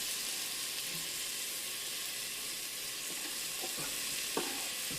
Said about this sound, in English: So we're going to first go ahead and put in our onion into that pan